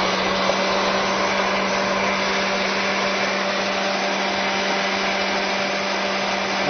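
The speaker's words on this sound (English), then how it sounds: "And then blend it." A kitchen blender whirs steadily at close range, its motor giving a continuous, even drone with a low hum for several seconds, with no talk over it.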